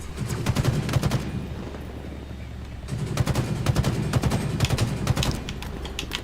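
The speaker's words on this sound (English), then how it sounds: "Battle rifle, baby. Clear a path." Battle rifle gunfire in the Halo Infinite multiplayer match, tight bursts of shots cracking over a steady low hum. A volley fires at the start, a pause follows, then another run of rapid bursts.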